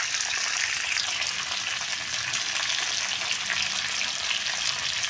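Food sizzles and fries steadily in a pan while salt is added, a close, continuous crackling hiss with no one talking.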